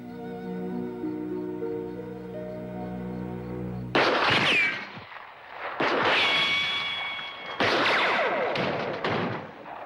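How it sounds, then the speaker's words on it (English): A sustained musical tone is cut off by three loud, sharp gunshots about two seconds apart, each ringing out with a short echo, from a 1957 western film. "Get down. Gunfire."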